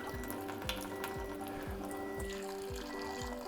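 A thin stream of water pours steadily from a Kangen water ionizer, set to strong 11.5 alkaline water at reduced flow, and runs into a container with a soft continuous hiss and a faint electronic hum, quiet and with no talking.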